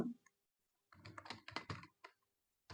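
CSS code is typed on a computer keyboard in quick clusters of close, crisp key clicks separated by short silent pauses.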